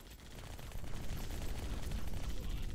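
Mounted turret gunfire in the Halo 2 E3 2003 demo, a video game: a dense, continuous rattle of rapid shots blended with a low rumbling battle din, steady and fairly loud throughout.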